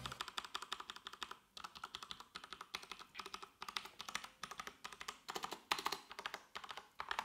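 Fast, steady typing on an MSI RGB gaming keyboard, a dense run of crisp key clacks in quick bursts with brief pauses, close and clear with no talking.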